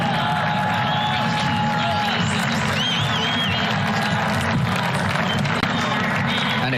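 A large indoor crowd at the 2022 World Indoor Athletics Championships keeps up a steady wash of cheering and applause, with a commentator speaking over it.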